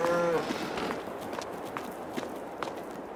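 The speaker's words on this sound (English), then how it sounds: "Look at the cows." Cattle on a farm in the Farming Simulator 22 video game, a single low moo at the start followed by scattered hoof-like footsteps and soft background ambience.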